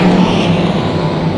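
Hobby stock race cars roar loudly and close during a four-car heat race, a dense continuous engine drone with no voices.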